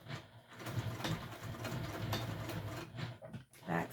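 A sewing machine runs in a steady, continuous whir while stitching a small fabric wristlet, the motor hum pausing briefly near the end before starting up again, close and moderately loud.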